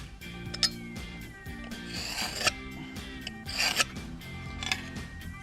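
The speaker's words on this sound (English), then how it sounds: "We're going to scribe our line." Scribing a line on a 1970 Cougar under restoration: a run of scratchy, rasping strokes of moderate loudness, close by and uneven, with faint mechanical clicks between them.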